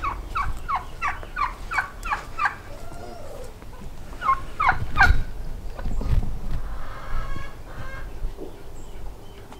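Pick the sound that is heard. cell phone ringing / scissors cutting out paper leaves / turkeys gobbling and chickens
turkeys gobbling and chickens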